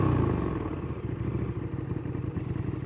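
Motorcycles pass on a road in Germany, a rumbling mid-pitched engine drone that is loudest at the start and then fades slightly while staying close and continuous.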